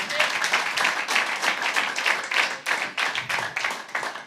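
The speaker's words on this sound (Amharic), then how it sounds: "አጨብጭቡ።" Congregation clapping hands together in a church service, a steady, dense patter of many claps sustained throughout, close and lively with no talk over it.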